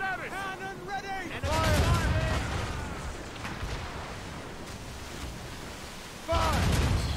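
Ship cannons fire in a pirate video game, two deep booming blasts spaced several seconds apart, with shouted voices and game sounds in between.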